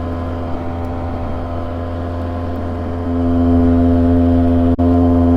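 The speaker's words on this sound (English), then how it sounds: "at this RPM, whatever this RPM is, that exhaust is singing" A 2003 Polaris Sportsman 700 quad cruising at about 35 mph, its exhaust droning as a steady, loud, multi-toned hum that gets louder partway through, with no talking.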